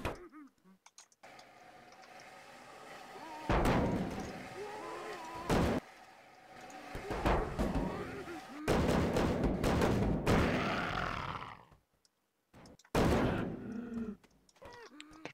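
Drum gun firing in Garry's Mod, bursts of loud blasts in clusters separated by quiet gaps, with honking-like tonal noises mixed in close by.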